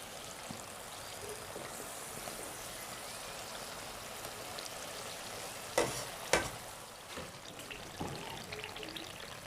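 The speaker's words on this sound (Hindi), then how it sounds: "देखिए, डी समोसा हमारे एक साइड से फ्राई हो चुके हैं। इनकी हम साइड चेंज कर लेते हैं।" Chicken D-shaped samosas fry in hot oil with a continuous soft sizzle and bubbling, broken by a couple of sharp clatters near the middle.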